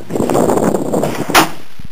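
One sharp, loud crack from a Mosin Nagant M38 rifle fired at a 50-yard outdoor range, arriving after a moment of rumbling background noise and followed by quiet.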